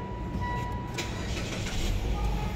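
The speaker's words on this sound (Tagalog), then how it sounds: "Start ko lang po yung makina" A Mitsubishi Xpander engine cranks and catches, then settles into a steady low idle rumble, close by.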